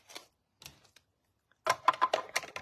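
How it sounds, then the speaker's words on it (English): A small manual die-cutting machine for papercraft stamping being opened: a couple of faint plastic clicks, then a close burst of rapid clacking and rattling knocks as the plates and cover are handled. "So I will open up my little machine here."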